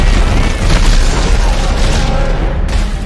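Grenade explosion in the video game Dead Space 3, heard as a dense, loud booming roar that fills the whole moment amid ongoing game noise.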